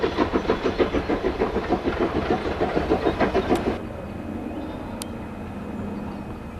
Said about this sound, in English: That's a Severn Valley Railway you saw there